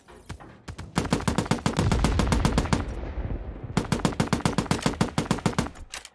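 Loud automatic gunfire from the video game World War 3 comes in two rapid bursts of sharp, evenly spaced shots, with a rumbling blast between them, close and with no one talking.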